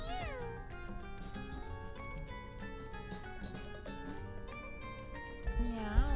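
Video game cats in Mewgenics meow repeatedly, clear high wavering calls over a quiet game music bed, ending in a louder caterwaul.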